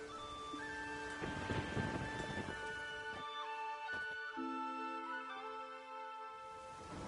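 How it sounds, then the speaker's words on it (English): Steady rain hisses throughout a stormy scene in the video game The Witcher III, with a low rumble and scattered game tones over it. "There's no point standing here in the rain."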